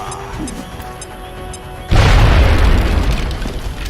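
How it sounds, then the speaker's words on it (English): An HE grenade detonates in the turn-based strategy game X-Com Long War: after a quiet lead-in, a single loud, deep boom hits and rumbles on with a long, heavy tail. "Yep, we're using an HE grenade."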